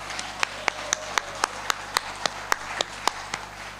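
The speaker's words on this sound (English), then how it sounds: "Another round of applause for the Kingdom of Tonga" An audience at a seminar applauds the Kingdom of Tonga, sharp individual claps standing out at a steady rhythm above softer background clapping and low hum.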